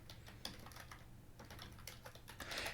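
Keys clatter on a computer keyboard as variables for spur gear design are entered, a quiet, uneven run of taps in quick bursts.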